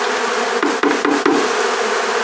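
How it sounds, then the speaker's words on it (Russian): Bees swarming around honeycombs left from honey extraction, a dense close buzzing that fills the clip, with a few sharp knocks or taps partway through. "Вон их тут куча пчел."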